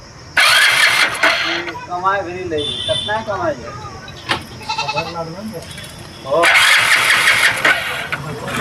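The electric starter of a Hero Splendor BS6 motorcycle with a starting problem whirs in two loud bursts, near and harsh, with someone talking between them.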